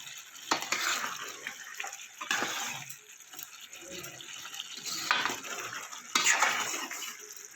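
Spoon stirring cauliflower curry with a small spoonful of ground garam masala in a pan on a gas stove, giving repeated scraping and clattering strokes at close range with no talking.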